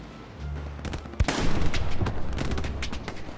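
Gunfire rings out in the World War II video game Hell Let Loose: one loud close shot, then rapid bursts and overlapping rifle and machine-gun fire that carry on densely, some near and some farther off.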